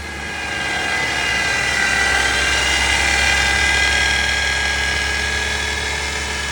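The transmission of a Chevy Malibu with a failing gearbox whines loudly as its wheels spin, holding one steady, piercing high-pitched tone over a low rumble.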